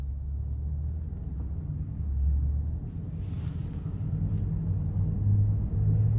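A 2026 Jeep Grand Wagoneer Summit with a twin-turbo inline six cruises along, giving a steady, subdued low engine and road rumble with mild swells, heard from inside the cabin with no talking.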